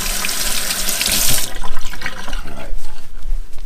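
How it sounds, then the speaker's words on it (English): Tap water runs into a kitchen sink while fingers are rinsed during cooking, a steady bright hiss that cuts off partway, leaving quieter clatter and handling noise; a voice speaks briefly. "I'm going to rinse my fingers off real quickly here"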